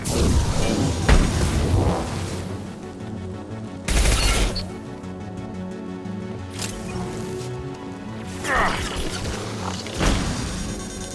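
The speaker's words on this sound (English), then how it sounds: "Taking heavy fire!" Heavy gunfire in the Mass Effect 2 combat game: dense bursts of shots and booming blasts rattle close and loud, with sharper explosive hits spaced through a continuous barrage.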